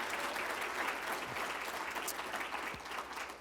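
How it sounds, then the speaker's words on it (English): An audience at a closing plenary session of an urban land conference applauds steadily, a dense, even wash of clapping that holds throughout before tapering slightly at the end. "Y'all give him one more round of applause."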